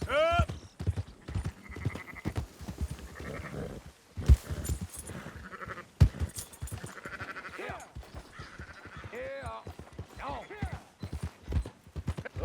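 Sheep in Red Dead Redemption 2 bleat in several wavering calls over clopping hooves, close and fairly loud, while a voice talks in between.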